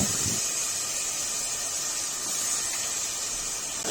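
Cut potatoes tossed into a hot pan with chili and other ground spices for a prawn and bottle-gourd-leaf curry, giving a steady, close, broad sizzling hiss that holds without pause and with no talk.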